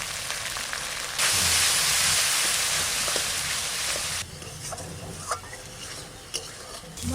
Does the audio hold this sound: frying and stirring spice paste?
yes